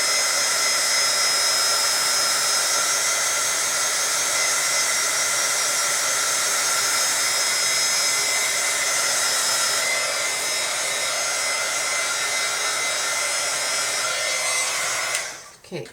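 A heat gun blows steadily and loudly for about fifteen seconds while drying spray-painted nylon held high above an old pizza box, with a broad continuous whoosh that cuts off abruptly at the end.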